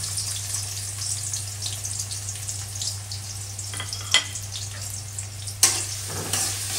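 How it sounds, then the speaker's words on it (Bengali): Onions sizzling and crackling steadily in hot oil, close by, with a couple of sharp metallic clinks from a utensil. "এখন পেঁয়াজ দেওয়া হইবে"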